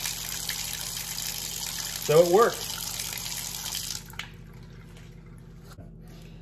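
Water drains steadily from a sink just cleared of a clog with an air blaster, a continuous hiss of flow that fades out partway through, with a brief spoken remark over it.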